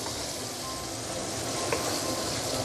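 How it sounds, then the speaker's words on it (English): Potato and dried bean curd stir-frying in a pan over low heat, giving a steady, even sizzle throughout with faint scraping from a stir. "I don't mind adding in the potato, give it a few stir."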